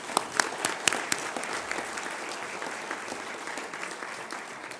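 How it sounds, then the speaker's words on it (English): Audience applause at the National Press Club after CVS Health CEO Larry J. Merlo's talk, a full room clapping steadily with a few sharp louder claps near the start, then settling into an even, sustained patter. "how about a round of applause for our speaker, but you took care of that"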